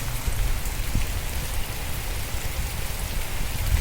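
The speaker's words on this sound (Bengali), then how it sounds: "সেই লেভেলে বৃষ্টি হচ্ছে" Heavy rain pours steadily on a rainy day, a dense, continuous hiss of drops drumming on surfaces close by, with no voices.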